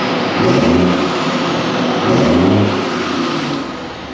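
An ERF EC11 truck with a Cummins engine runs alone, a steady low diesel rumble that swells twice as the revs rise and then eases back.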